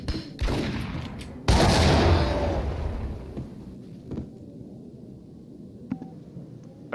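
Grenade blast in Max Payne, a loud booming explosion with a long rumbling decay that follows an earlier sharp gunshot-like impact, then fades into quieter ambience with a few faint thuds.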